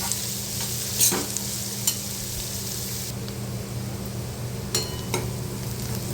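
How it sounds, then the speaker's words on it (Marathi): Onions being stirred and sautéed in a pan for a dry cluster-bean (gawar) bhaji, giving a steady close sizzle with a few scraping spoon strokes and light clinks over about six seconds. "कांदा परतून घेऊया व्यवस्थित कांद्याचा कलर चेंज होईपर्यंत आपण कांदा परतून घ्यायचा आहे"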